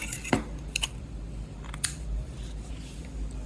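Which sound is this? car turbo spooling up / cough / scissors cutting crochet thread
scissors cutting crochet thread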